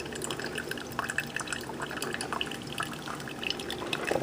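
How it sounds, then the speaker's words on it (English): A cheap single-serve one-cup coffee maker brews into a cup, a steady trickle and drip of liquid with soft bubbling, close and moderately loud, without talk. "So here we are brewing away here."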